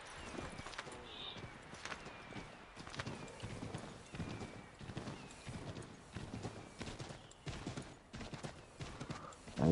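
Horse hooves clip-clopping steadily in Assassin's Creed 3 Remastered, a continuous rhythmic trot of close hoofbeats with a brief whinny near the start.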